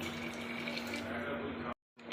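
Water pours steadily into a pot for cooking veg biryani in a dense, splashing rush, then cuts off abruptly.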